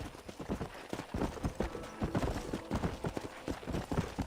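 Horse hooves drumming quickly in a video game, a fast irregular clip-clop rhythm running throughout at close range, with a faint hint of other game sound beneath.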